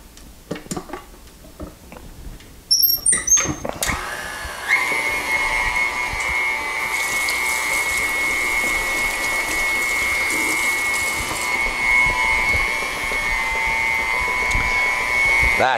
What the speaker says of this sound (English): we will just give it one more mix, and then the mixer is out of the picture